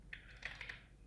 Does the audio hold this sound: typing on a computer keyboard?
yes